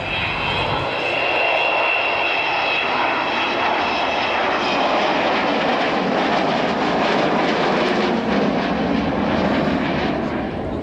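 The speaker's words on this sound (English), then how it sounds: "So here she is, coming back towards us, proving that they did get Vulcan to the sky." Avro Vulcan bomber at an air show at Waddington in 2011, its jet engines giving a loud, sustained roar throughout as it flies back toward the crowd.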